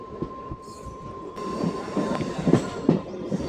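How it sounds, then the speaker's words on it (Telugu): A MEMU passenger train pulls out of Annigeri station, heard from aboard: rumbling wheels build into rhythmic clacks over rail joints, with a steady tone and some squeal above the rolling noise. "అనిగేరి నుంచి మన ట్రైన్ బయలుదేరింది."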